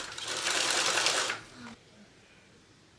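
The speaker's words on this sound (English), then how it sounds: "I'm sewing this at about 1/4 of an inch seam allowance" A sewing machine stitches a fringe-trimmed fabric clutch at a quarter-inch seam, running in a rapid, busy whirr for over a second before stopping, then leaving quiet room tone and a final click.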